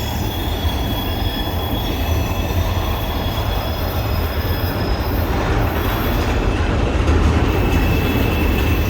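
CSX freight train rolling past up close through Fostoria, Ohio, a steady loud rumble with squealing wheels and continuous clatter of railcars throughout.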